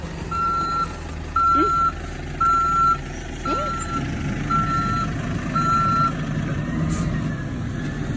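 A garbage truck backs up with a steady run of evenly spaced reversing beeps, clear and repeated over its low engine rumble, with a brief squeal of brakes now and then.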